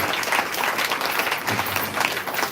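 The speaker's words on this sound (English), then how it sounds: "Give them one more round of applause" Full, steady applause from a live audience at a spoken-word poetry show, a dense wash of many hands clapping continuously throughout.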